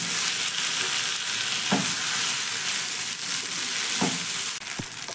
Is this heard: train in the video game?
no